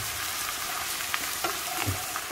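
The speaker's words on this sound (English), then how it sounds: "I'm gonna stir this up a little bit." Meat sizzling and frying in a pot while being stirred during home cooking of Asian food, a steady close crackling hiss with small scraping and stirring accents.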